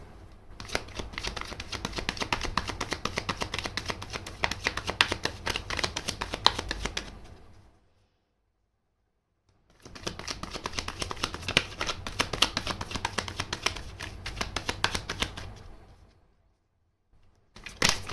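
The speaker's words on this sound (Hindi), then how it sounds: "3 शफल्स के बाद I will take out your cards" Tarot cards being shuffled by hand in two long bursts of rapid riffling clicks, close and fairly loud, separated by a short silent pause, then a brief start of a third shuffle.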